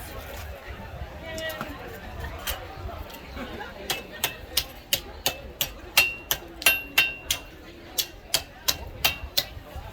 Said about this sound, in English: we're letting the hammer do all the work for us